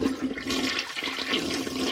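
A toilet flushes loudly and steadily for about two seconds, a continuous rushing swirl of water with no voices over it.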